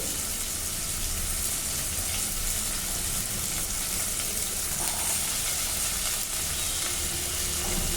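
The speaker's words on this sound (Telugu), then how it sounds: "చక్కగా మీరు ముక్కల్ని వేయించుకోండి" Okra pieces fry in hot oil over a medium flame for a curry with egg, giving a steady, dense sizzle that runs unbroken and fairly loud throughout, with faint scraping of stirring underneath and no voices.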